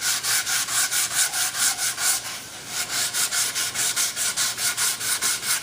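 Steady back-and-forth sanding strokes on wood, close and rhythmic, about three per second with a brief pause midway; no voices.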